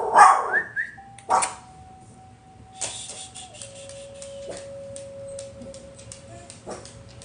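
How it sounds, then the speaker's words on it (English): Dogs barking in short bursts near the start, loud and close, then quieter yaps amid a steady electronic tone and room noise during a guided breathing session. "Excuse the dogs."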